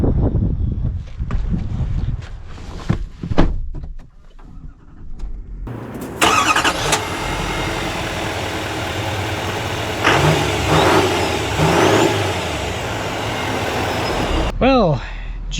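A 2025 GMC Sierra AT4X AEV Edition diesel pickup drives with a steady low engine drone and road rumble, rising in spots as it accelerates, with brief talk and knocks beforehand and a short swoosh near the end.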